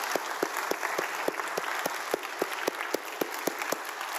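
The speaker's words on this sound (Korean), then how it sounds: "우리 하나님께 영광의 박수합니다." A church congregation at a Full Gospel service in Daechi, Korea, claps together in a steady, even rhythm that fills the room, with no talk over it.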